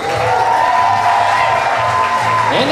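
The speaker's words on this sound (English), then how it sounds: "let's have a nice big round of applause for Mrs. Helen Aiken" Wedding reception guests cheer and applaud for the bride's grandmother, a loud, dense crowd roar with whoops and shouts sustained throughout, a steady tone running underneath.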